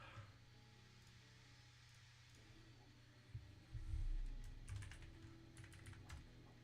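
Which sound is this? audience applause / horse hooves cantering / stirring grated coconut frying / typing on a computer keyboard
typing on a computer keyboard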